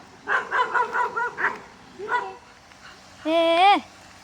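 A village dog gives a quick run of yapping barks, then a single bark, and finally a rising, drawn-out whine, all fairly close.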